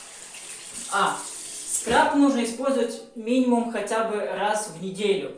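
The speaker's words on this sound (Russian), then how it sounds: "Мы смываем этот скраб." Tap water runs steadily while face scrub is rinsed off, with someone talking continuously over the splashing flow.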